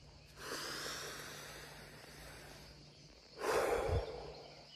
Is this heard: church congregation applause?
no